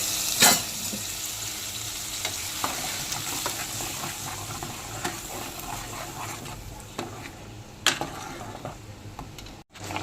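Spices lightly frying in a pan for a raw banana and tomato curry, a soft continuous sizzle with irregular scraping stirs and occasional clinks of the utensil against the pan, close up.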